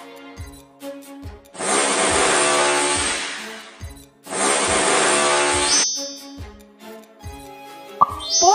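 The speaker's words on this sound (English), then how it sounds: "Make a hole with a driller." An electric drill bores a hole in an empty plastic bottle in two loud whirring bursts of a couple of seconds each, separated by a short pause, over soft background tones.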